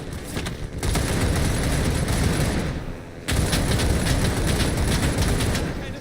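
Dense, continuous video-game gunfire crackles in rapid bursts, loud and close, breaking off briefly for a moment before resuming just as heavily.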